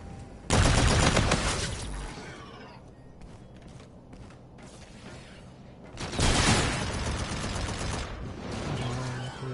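Heavy gunfire in the shooter Battlefield 4, with two long, loud bursts of rapid automatic fire and a quieter stretch of scattered shots and mechanical clatter between them.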